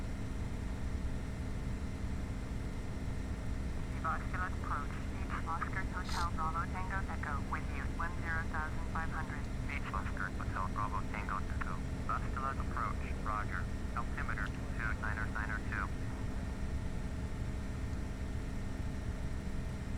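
A Douglas DC-3 in Microsoft Flight Simulator X drones steadily through its climb, the radial engines giving a loud, unbroken low roar, with a stretch of pulsing higher tones riding over it midway.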